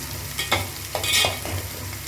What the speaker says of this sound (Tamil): நல்லா வதக்கி விடணும்னா வெங்காயம் நல்லா கொஞ்சம் வதங்கணும்